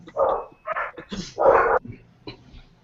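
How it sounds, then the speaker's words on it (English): A pet dog barks in a home during an online chat, sounding as a few sharp, close barks spaced irregularly with short yips between them, alone with no talk. "his guard dogs are coming in"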